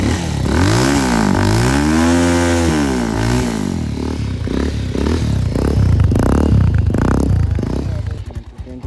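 A Bajaj Pulsar 220F motorcycle fitted with an aftermarket silencer revs up and settles in a rising and falling engine note, loud and close, later breaking into choppier bursts as the throttle blips.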